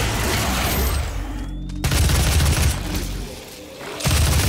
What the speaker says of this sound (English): This is the heavy assault rifle.